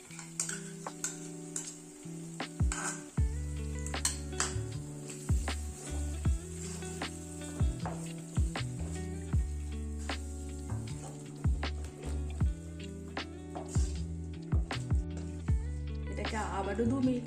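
Spiced chicken curry masala with whisked yogurt being stirred and fried in a pan for a Mughlai chicken curry, a steady sizzle with repeated scraping stirs and knocks throughout.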